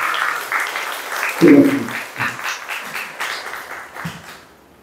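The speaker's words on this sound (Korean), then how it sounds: "여러분 박수로 축하해" A church congregation claps briefly after members are welcomed in, a short burst of scattered applause under a speaking voice that tapers off into quiet.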